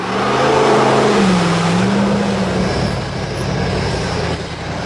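A HMMWV's engine drones loud and close as the vehicle drives through mud, a steady low rumble with a slight rise and fall in pitch, alone and without voices.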